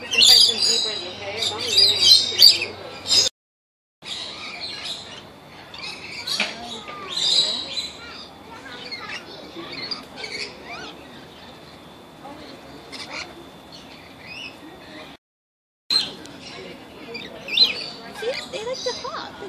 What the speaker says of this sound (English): Here, you want some nectar, little bird?